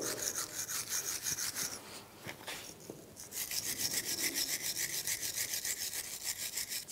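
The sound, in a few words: scrubbing corrosion off BMW brake caliper bracket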